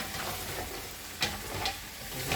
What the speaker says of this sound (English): Now we're gonna let it fry